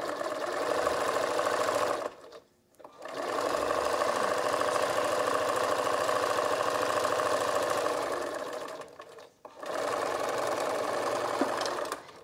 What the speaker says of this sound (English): Go to my sewing machine, and I'm going to stitch a 1/4-inch seam here.